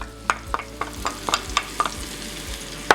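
Onions sautéing in about a tablespoon of olive oil, a soft continuous sizzle broken by a quick series of spoon scrapes and clicks against the pan, close up and without speech.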